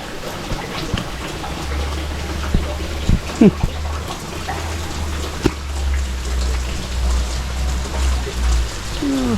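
Heavy rain falls in a backyard garden in Canada as a dense, steady hiss with scattered louder drops and splashes nearby, and a voice briefly sounds under the downpour.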